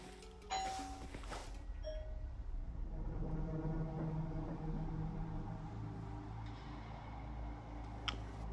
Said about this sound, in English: there's someone ringing the doorbell